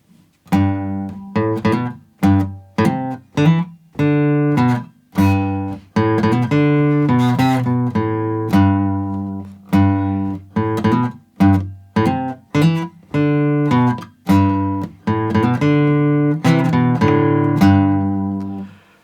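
Plucked guitar notes and short chords of a song intro ring out in a steady, rhythmic phrase with brief pauses between groups, played alone and close.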